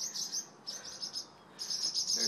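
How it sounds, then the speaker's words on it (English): Parent birds near their nest give agitated alarm calls, a shrill, rapid chirping in repeated bursts with short gaps between them, fairly close and alone. "Those are the mommy and daddy birds, and they are going crazy with worry. Flying around everywhere and giving off alarms."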